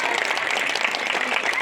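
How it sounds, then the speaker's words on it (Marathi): Audience applause in a hall during a Marathi seminar talk, a short steady burst of dense clapping at moderate loudness. "वाजवा रे टाळ्या त्यांच्यासाठी, कळलं का?"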